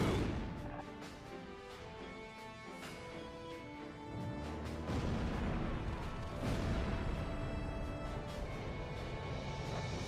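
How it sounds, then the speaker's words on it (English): Missile launches and explosions in the jet combat game Ace Combat Zero: The Belkan War, a roaring rushing whoosh with heavy booming blasts swelling and fading over engine drone. "Missile launched."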